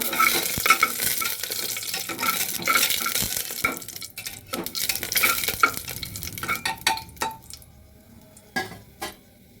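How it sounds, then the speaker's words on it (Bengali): Black pepper and cloves fry in a pot while a spoon stirs them, making clattering scrapes and clinks over a sizzle that fades and breaks into sparse knocks toward the end, with no talking. "গোলমরিচ লবঙ্গ সব দিয়ে দিলাম এবার হালকাতে নেড়ে দিচ্ছি"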